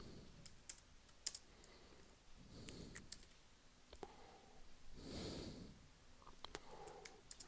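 Code is typed on a computer keyboard in quiet, irregular bursts of close key clicks, with brief pauses and a few soft breaths between runs.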